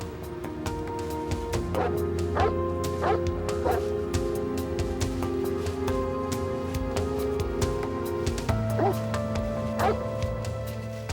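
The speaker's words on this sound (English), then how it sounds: "a tracking dog was dispatched to pick up the scent" A tracking dog barks and yips repeatedly in a rapid, uneven series during a police search of nearby woods, close and loud over a steady background hum.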